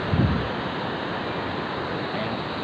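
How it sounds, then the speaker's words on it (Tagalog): Strong sea waves roll onto a beach at Timalan Concepcion in Naic, Cavite, a steady loud wash of surf with wind buffeting the microphone, constant and close throughout. "So, malakas lang yung alon."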